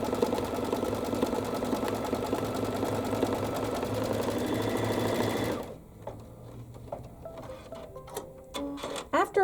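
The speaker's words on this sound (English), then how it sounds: "So it's going to do my placement stitch for the upper half." An embroidery machine stitches a placement line for a reverse applique notebook cover with a steady, fast mechanical whir and needle chatter for several seconds. Then it stops abruptly, leaving quiet clicks and small handling sounds.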